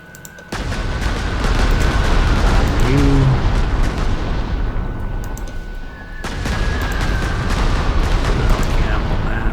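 Bombing explosions in the World War II strategy game Panzer Corps 2 rumble loudly, a dense roll of blasts sustained for several seconds, briefly dropping away before another heavy burst.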